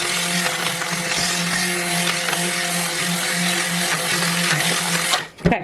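An immersion blender whirs through a large pot of hearty vegetable soup with thyme, a steady close, loud motor drone with a buzzing hum that runs evenly for several seconds before cutting off abruptly.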